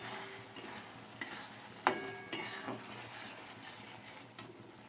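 A utensil stirs chorchori, a Bengali mixed vegetable dish, in a cooking pan with a little oil, making quiet scattered scrapes and clicks, a few sharper taps standing out over soft background hiss.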